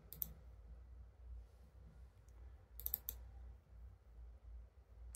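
Faint trackpad clicks on a late-2010 MacBook Air: a single click near the start, then a quick cluster of two or three sharp clicks, all close but quiet over a low background hum.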